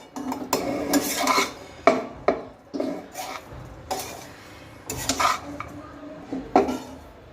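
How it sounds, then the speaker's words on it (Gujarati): A spoon stirs and scrapes vegetable poha in a metal pan, with irregular clanks and gritty scraping strokes in uneven bursts, close and fairly loud with no talking. "હવે આને આપણે સરસ મિક્સ કરી દઈશું."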